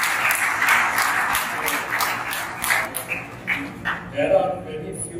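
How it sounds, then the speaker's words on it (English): An audience at a college campaign event on greener shipping technology applauds in a lively burst that thins into scattered claps, with voices talking over it toward the end. "So a big round of applause"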